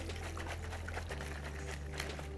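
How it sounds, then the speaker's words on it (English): Water poured into a mixer jar while cooking coriander chicken pulao, a steady close trickle and splash over a low constant hum from a nearby appliance. "I'm deliberately adding the water in the mixer jar"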